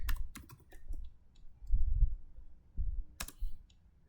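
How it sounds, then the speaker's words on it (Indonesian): Keys typed on a computer keyboard while entering a command, irregular bursts of close, crisp clicks with short gaps and a quick final flurry, no voices. "Di sini kita ketik juga perintahnya."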